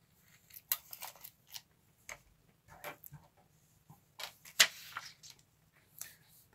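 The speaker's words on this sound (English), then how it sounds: "I open up this measuring tape right here" A measuring tape pulled open, giving scattered light ticks and clicks in irregular bursts over a quiet background hum, close and soft, no voices.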